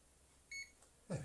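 A single short electronic beep from an Electrolux Slimline 185 Electronic vacuum cleaner, faint against a quiet room background, followed by a brief thump.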